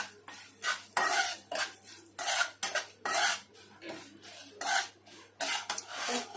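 Almond slices frying in hot ghee in a pan, heard as bursts of scraping, stirring and utensil clatter against the metal in an irregular rhythm, fairly close, with no voices.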